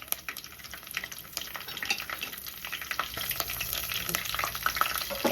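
Curry leaves and four slit green chillies crackle and sizzle in hot oil for biryani, a steady close frying hiss with light stirring scrapes throughout and no talking.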